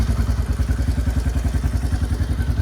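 A 1990s Yamaha Kodiak 400 ATV with a freshly cleaned carburetor idles steadily nearby, its loud, even, rapid thumping putter running throughout without speech.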